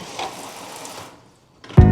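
Hot water pours from a household tap in a steady, hissing stream for about a second before cutting off. A brief silence follows, then a sudden loud, buzzing tonal noise.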